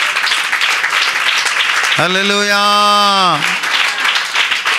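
A church congregation claps loudly and steadily during a sermon; midway, a voice rings out with a long sustained shout, and the clapping carries on around it.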